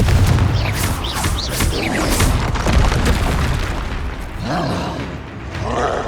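A Confringo spell explosion in Hogwarts Legacy, a loud, booming blast with rumbling bursts and crackling magical effects that run through the whole stretch.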